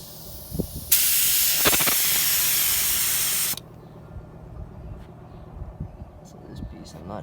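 A Harbor Freight Spectrum HTE spray gun sprays paint with a loud, close, steady hiss lasting under three seconds, cutting off abruptly and leaving quieter handling noise.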